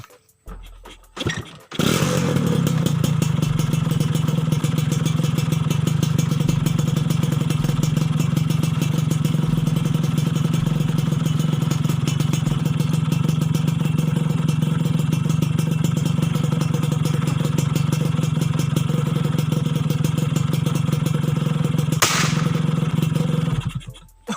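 A Tena 110cc motorcycle idles loud and steady close by for about twenty seconds after a brief start-up, with a firecracker set off in its exhaust; sharp cracks mark the beginning and end, no talk.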